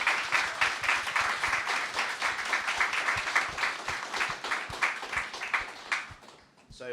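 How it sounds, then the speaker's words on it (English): A crowd claps in a dense, steady burst of applause that swells in waves, then tapers and fades out near the end. "just a huge round of applause for the four of them."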